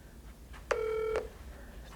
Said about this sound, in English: This is going to send a call to the intercom out there.